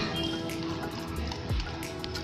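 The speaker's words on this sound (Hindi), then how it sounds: "और पानी डाल देते हैं" Water poured into rava dosa batter in a bowl, with soft trickling, dripping and a brief gurgling splash, close by.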